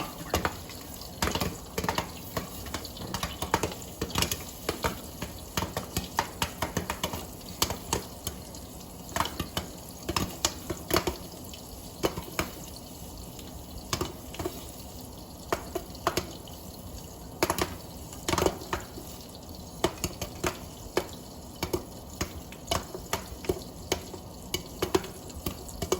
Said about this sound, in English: You're gonna let it pop until the popping slows or comes to a complete stop.